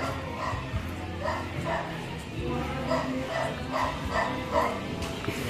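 A dog gives short repeated barks and yips through steady market chatter, the sounds close and mid-loud, with people talking throughout.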